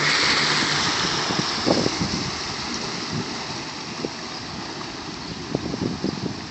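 Rushing, hissing water from a boat with an electric outboard motor moving by, a broad steady wash with small splashes and no audible motor.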